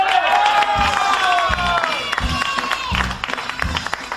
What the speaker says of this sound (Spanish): Aquí está y fuerte el aplauso para Bonnie